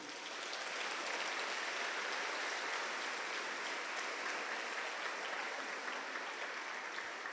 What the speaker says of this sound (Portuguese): Então dá um aplauso ao Senhor por isso.